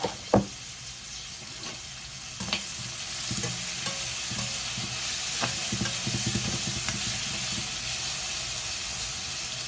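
Onions sauté with salt in a pan for a crab roast, a constant gentle sizzle with occasional stirring clinks and scrapes, close and unaccompanied by speech.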